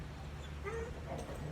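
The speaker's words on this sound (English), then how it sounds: "One of the dogs is going crazy back here." A dog in a backyard whimpers and yips in short, faint, high cries against a low, steady background hum, fairly distant with no talk.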